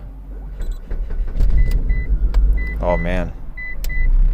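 A 2004 Mitsubishi Eclipse with a 3.0L engine, suffering an idle surge and stalling fault, cranks and settles into a low rumbling idle, close by, with someone speaking briefly over it and a few short electronic beeps.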